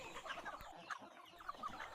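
Native Thai village chickens on a farm cluck softly and repeatedly, several birds calling in short overlapping bursts at a low, fairly distant level.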